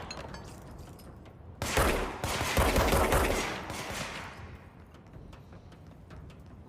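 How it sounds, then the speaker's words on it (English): A character fires a weapon in the video game Control. After a quiet start, a dense, loud burst of rapid gunfire lasts about two seconds and then tails off into a fading rumble. "They have an animation for her just shooting."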